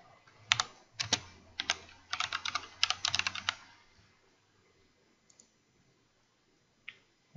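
Fingers type on a computer keyboard in quick clusters of sharp, close clicks for a few seconds, searching cards in a Trello board, then fall quiet with a couple of isolated faint taps.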